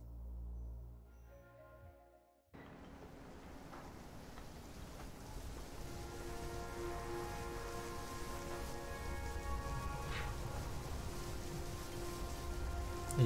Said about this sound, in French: Évidemment, il pleut